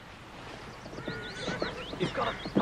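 A horse whinnies with rising and falling squeals while hooves thud and clop beneath, moderately loud and close.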